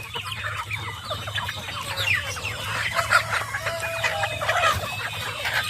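Hungry chickens and turkeys cluck busily at feeding time in a mixed flock, a dense, overlapping chorus of nearby calls rising through the clip, with no voices.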